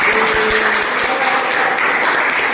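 A classroom claps for a student told to sit down, a steady, close round of hand clapping filling the whole stretch with no talk over it.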